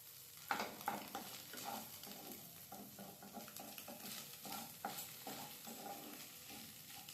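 Egg bhurji fried and stirred in a pan: a soft, continuous sizzle broken by rhythmic scraping strokes of a spatula, heard fairly faint and without talk.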